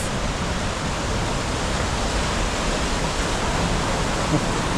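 Waterfall at Johnston Canyon in Banff, Alberta, a steady, loud, broadband rush of falling water that roars on unbroken throughout with no pauses.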